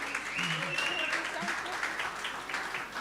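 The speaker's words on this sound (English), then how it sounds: "Could you please give Pat a round of applause one more time?" An audience at a youth-owned brands awards media launch gives a round of applause, a steady, moderately loud wash of clapping with a few voices and a brief whistle-like tone over it.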